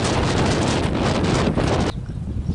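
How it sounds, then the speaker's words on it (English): Strong wind gusts batter the microphone outdoors, a loud rumbling roar that cuts off abruptly near the end, leaving a quieter breezy hiss. "it's a little bit windy, isn't it?"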